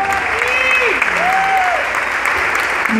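An audience applauds in a dense, steady wash of clapping at a live music show, while sustained musical tones and a voice ring out over it throughout.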